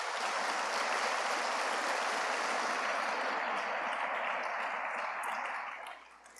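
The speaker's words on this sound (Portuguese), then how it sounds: "Queria que você aplaudisse o Senhor pela palavra de Deus." A church congregation applauds in a dense, steady wash of clapping that holds for several seconds, then tapers off quickly at the end. No voices are heard.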